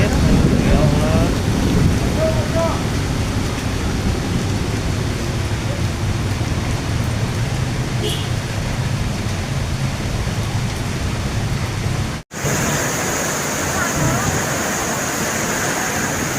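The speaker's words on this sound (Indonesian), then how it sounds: "Tanggul hari ini hujan badai." Heavy rain pours during a storm in Jember, Indonesia, a dense, loud, unbroken roar of rainfall that continues throughout, with a brief cutoff near the end.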